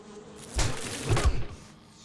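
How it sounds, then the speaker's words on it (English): A bee swarm in the survival game 7 Days to Die, heard as a dense, mid-level insect buzz that swells for about a second with a couple of louder surges before fading, no talk over it. "Oh, I got a honey. But I got a bee swarm."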